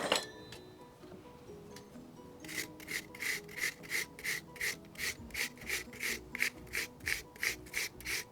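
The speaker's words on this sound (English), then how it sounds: "we're going to grate them into the blackberries" Peeled apples rubbed against a hand grater into a bowl of blackberries for jam, a steady run of about fourteen rhythmic rasping strokes, close and fairly quiet, with no talking.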